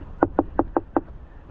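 Five sharp knocks on the wooden body of a honey bee hive in winter, evenly spaced and close, each a dry hollow rap with short pauses between.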